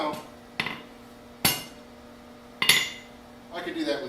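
A hammer strikes metal at a forge, four sharp ringing blows spaced about a second apart, fairly close, followed by a brief scraping rattle.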